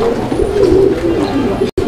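Pigeons at a market stall coo in low, throaty repeated calls, close and steady, several birds overlapping with faint background chatter.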